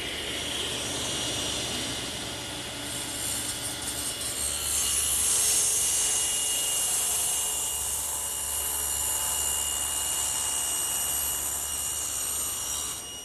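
A power saw blade rips through a wooden board during bookcase building in a woodworking shop, giving a loud, steady whining roar that swells slightly midway and runs unbroken for the whole stretch, with no talking.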